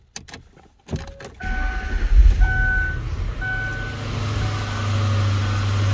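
A 2003 Ford Thunderbird engine cranks and catches, then settles into a steady low idle, with a few electronic chimes sounding early on.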